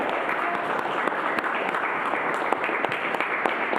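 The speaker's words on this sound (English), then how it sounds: "Good round of applause for Kip" A city council meeting audience claps for retiree Kip, a steady patter of moderate applause from a modest crowd throughout.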